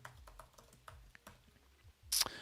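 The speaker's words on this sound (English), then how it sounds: "But I can type throw new exception" Quick bursts of keystrokes on a computer keyboard while code is being entered, with a louder clack near the end, close and fairly quiet with no talking.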